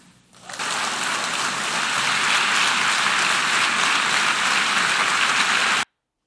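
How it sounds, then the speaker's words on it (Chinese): Delegates at a United Nations session rise in a standing ovation after France recognizes the State of Palestine. The dense, loud applause swells in within the first second, holds steady for about five seconds, then stops abruptly. "当然是起立鼓掌嘛。"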